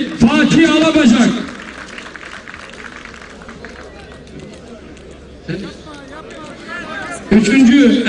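A crowd at an oil wrestling head final applauds and cheers the winner, a broad rushing wash of clapping and chatter that swells, fades under a loud announcer's voice, then rises again near the end.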